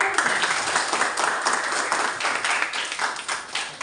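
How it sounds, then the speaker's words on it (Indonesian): A classroom full of students claps steadily, a dense patter of hand claps sustained for several seconds without a break. "Tepuk tangan untuk Murni"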